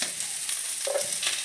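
Chili powder and papaya frying in a hot pan, giving a close, steady, loud sizzle with faint stirring scrapes and no talking.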